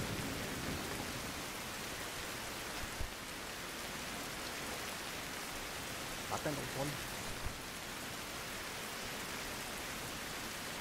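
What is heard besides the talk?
thunderstorm rain in video game Survival: Fountain of Youth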